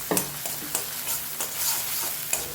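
Onions sizzle steadily in a hot pan over a full gas flame, with a spoon stirring and scraping in repeated strokes close by, no talking.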